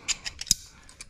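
Pliers click and a rubber hose creaks as it is wiggled off an LT4 engine, a few sharp, close, irregular ticks over about a second.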